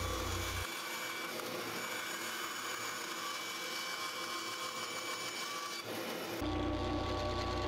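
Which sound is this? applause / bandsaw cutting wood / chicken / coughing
bandsaw cutting wood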